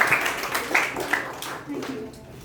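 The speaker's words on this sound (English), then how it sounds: "please let us put our hands together to give a big round of applause to all our assignees" Audience applause for the assignees at a Periyar YLP youth leaders' meeting, scattered hand claps rising and fading over a couple of seconds in a room, fairly faint with a murmur of voices.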